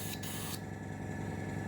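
Spray paint hisses onto an HMS Queen Elizabeth model build in short close bursts over a steady background hum.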